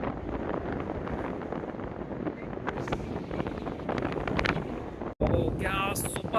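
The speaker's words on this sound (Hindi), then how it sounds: "क्या सुपर हवा चल रही है" Strong wind on a mountain road between Thimphu and Punakha in Bhutan roars steadily and loudly into the microphone throughout, with a brief dropout near the end followed by buffeting gusts.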